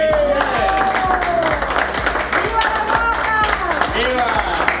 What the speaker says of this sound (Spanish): Un aplauso para Miriam Ebé